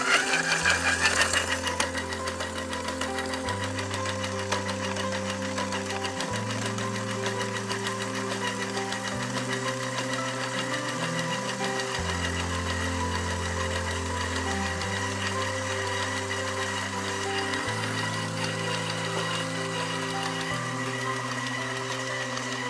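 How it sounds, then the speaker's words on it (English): A KitchenAid bowl-lift stand mixer, the 7-quart 5KSM7990X, runs at speed 6 kneading dough with its spiral hook, a loud steady motor whir that throbs and shifts pitch in a repeating cycle, close and continuous without speech. "We recommend for dough making to use the stand mixer at speed 6."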